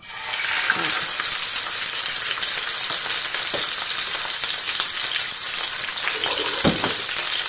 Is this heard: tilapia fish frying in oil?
yes